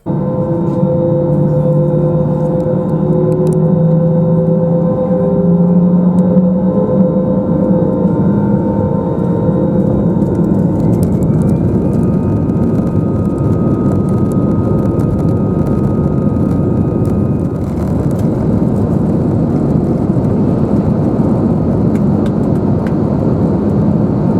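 Loud, steady roar of an easyJet Airbus A320-200's jet engines building through takeoff from Gatwick's runway 08 right, with whining tones rising and a constant rushing rumble throughout.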